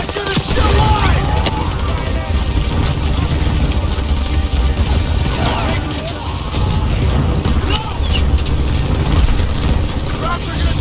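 Dense, continuous gunfire and booming blasts from a World War II battle in Call of Duty WWII, a steady roar of machine gun fire and explosions running throughout with shouted voices mixed in.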